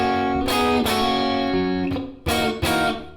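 A Stratocaster electric guitar plays the first measure of a song, with ringing sustained chords and several sharp strummed attacks, heard close and alone with no talking.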